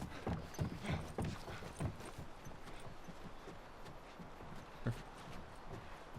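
Horse hooves clip-clop in a steady rhythm in the video game The Last of Us, with louder footfalls early on, over a constant outdoor background.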